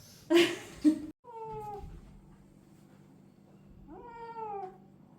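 A cat meows twice, drawn-out and complaining, during a blood draw at a veterinary clinic, with brief rustling handling noises just before and a steady low hum in the background.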